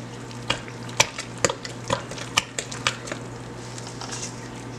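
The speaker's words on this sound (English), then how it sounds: "So let's just go ahead and stir this up." Salted codfish cake batter with flour being stirred in a bowl, a series of sharp spoon clacks and wet squishes at an uneven rhythm over a low steady hum.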